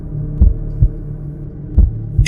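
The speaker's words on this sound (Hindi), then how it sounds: "दिल तेज धड़कने लगा" Fast heartbeat sound effect with deep, booming thumps arriving in pairs over a low hum, loud and close, with no voices.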